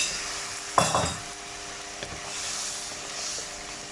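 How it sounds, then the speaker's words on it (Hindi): Sauce with garlic for orange chicken stirred in a frying pan, a spoon scraping the pan bottom once or twice over a quiet, steady sizzle, no talking. "इसको अच्छा सा नीचे से मिक्स करके"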